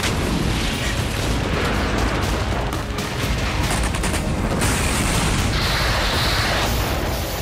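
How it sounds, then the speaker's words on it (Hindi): Continuous loud rumbling and crackling of heavy Israeli bombardment on northern Gaza, with fighter jets overhead, dense overlapping blasts with no pauses, sounding distant yet powerful. "उत्तरी गाजा पर बरसते बमों से हुए धमाके की चमक इतनी तेज थी"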